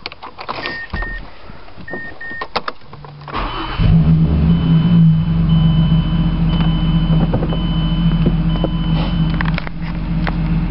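Clicks and a short crank come first, then a manual-gearbox car engine catches and settles into a loud, steady idle with a low, even drone that continues to the end.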